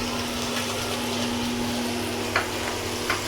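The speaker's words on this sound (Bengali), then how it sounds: "মাছ ভাজা, আর এখানে হচ্ছে" Hilsa fish frying in hot oil, a steady close hiss of sizzling with a constant low hum underneath and a couple of brief clicks near the end.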